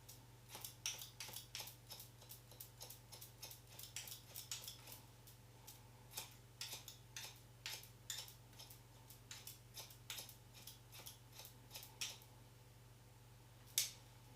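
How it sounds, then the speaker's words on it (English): Hair is point cut with scissors for a shag haircut, a close series of small crisp snips at an uneven rhythm over a faint low hum, with one louder snip near the end. "this deep point cut to create loads of texture"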